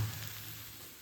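Prawns dry roasting in a pan give a soft, steady sizzle and crackle, faint and brief with no talk over it.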